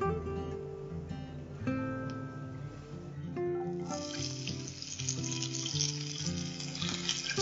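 Fennel seeds and onion frying in hot oil for a dried-fish curry, a soft continuous sizzle that grows busier midway, heard under steady music.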